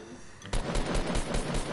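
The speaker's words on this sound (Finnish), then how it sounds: "Kossu, ammu se!" Rapid automatic gunfire in the Fortnite Battle Royale video game, a sudden burst of evenly spaced shots that starts after a quiet moment and continues steadily at close range.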